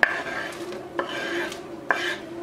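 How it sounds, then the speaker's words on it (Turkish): Spatula scraping and stirring thick chocolate cake batter with flour in a bowl, with a few sharper clinks against the side at regular intervals, close up and moderately quiet. "Ve bunları bir spatula yardımıyla karıştırıyoruz"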